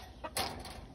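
Bantam chicken clucking in a back garden, a short soft call followed by a louder, fuller cluck, close by with faint background noise.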